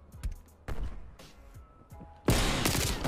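Sniper rifle gunfire in the Call of Duty Cold War video game: a few sharp shots and thuds give way to a loud, sustained burst of firing near the end, with no talk.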